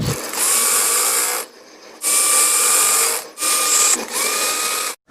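Sewing machine stitching palazzo fabric, running in four loud, close bursts of rapid whirring stitches, each separated by a brief pause.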